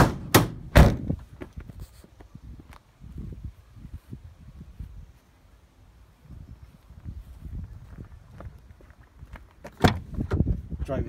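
Back doors of a 2012 Ford Transit Connect van fitted with tool racking, giving several sharp metallic thunks and latch clicks, loudest near the start and again toward the end, with quieter handling rattles between.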